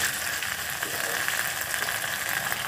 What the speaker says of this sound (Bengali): এভাবে 5-7 সেকেন্ড নাড়াচাড়া করা হয়ে গেলে